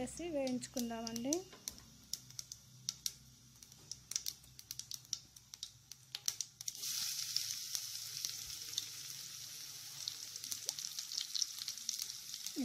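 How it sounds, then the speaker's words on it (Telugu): Grated cabbage and potato frying in hot oil with mustard seeds and cumin, a close continuous sizzle with scattered sharp pops and stirring scrapes, a voice speaking briefly at the start and end. "మనము ఈ క్యాబేజ్ తురుము, ఈ పొటాటో తురుము అంతా వేసి వేయించుకుందామండి"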